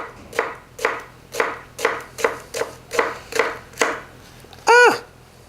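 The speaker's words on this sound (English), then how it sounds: "so we're going to slice all the way down, but we're going to leave just the last little tiny bit of the onion intact" Knife slicing down through an onion on a cutting board, about eight evenly spaced close chopping strokes in a steady rhythm, ending with one brief sharper ringing scrape.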